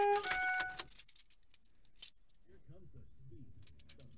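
Car keys jangle briefly and close at the start, a bright metallic rattle lasting under a second, followed by quiet cabin rustle and faint murmured talk.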